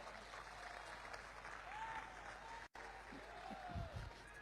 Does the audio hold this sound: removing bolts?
no